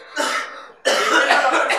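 Two harsh, raspy coughing bursts close up, the second longer and rougher than the first, with no talking.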